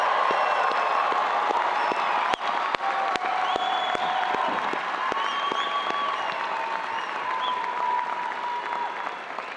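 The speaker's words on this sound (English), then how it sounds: "Audience, join me in celebrating and applauding the newest master's" A large commencement audience at a spring university graduation ceremony applauds steadily for new master's graduates, a dense, sustained wash of clapping with a few sharp louder claps and faint cheering underneath.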